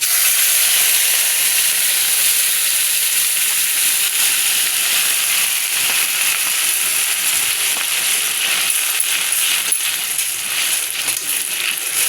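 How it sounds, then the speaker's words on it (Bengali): Boiled broth pours into a hot pan of fried fish, onion and garlic, giving a steady loud hiss and sizzle of steam that holds unbroken throughout. "এখন দিয়ে দেবো যে সব সেদ্ধ করা ঝোলটা,"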